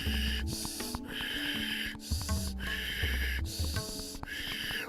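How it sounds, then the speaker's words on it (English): Ujjayi breathing during Himalayan kriya yoga, slow rhythmic hissing inhales and exhales through a constricted throat, about five close breath cycles over a low background tone. "Ujjayi breath."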